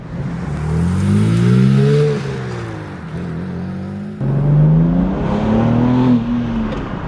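A modern BMW M3 engine revs loud and close under boost, its pitch rising through two strong accelerating pulls with a brief shift dip between them.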